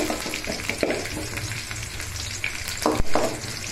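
Garlic frying in hot oil in a kadai with mustard seeds gives a brief close sizzle, with light crackles and a couple of sharp pops or stirring knocks.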